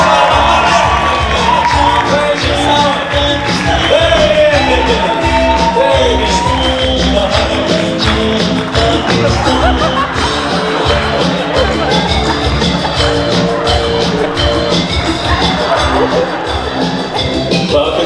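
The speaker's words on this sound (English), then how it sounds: "can we also have a huge round of applause to welcome wonderful captain of Team Pakistan" A studio audience at a stand-up comedy battle cheers and whoops continuously, loud and close, as a captain of the Pakistan team is welcomed to the show, with crowd shouts layered throughout.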